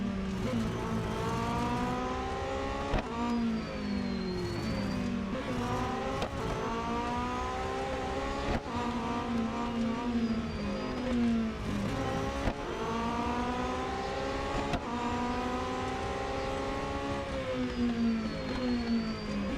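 Race car engines from the Real Racing 3 video game hold a continuous loud, high-pitched whine, climbing and dropping with each gear shift, steady throughout with no gaps.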